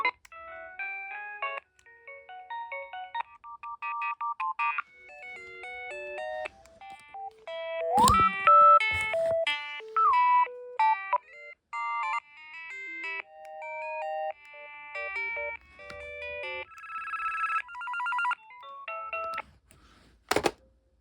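A Philips DECT 511 cordless phone cycles through its ringtones, a sequence of bright synthetic melodic beeps and chirpy tunes, each short pattern stopping before the next begins, close and clear with no talking.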